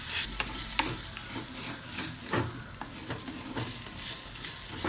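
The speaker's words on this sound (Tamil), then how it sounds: "ஓரளவுக்கு மாட்ரேட் ஹீட்டில் தான் நான் வதக்கிட்டு இருக்கேன்" Ingredients for a white cauliflower kurma sauté in a pan over moderate heat, a steady close sizzle broken by frequent scraping and stirring knocks throughout, with no talking.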